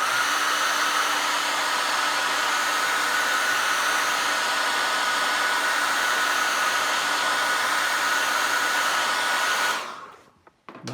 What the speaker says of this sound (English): Let me take the hairdryer for a sec.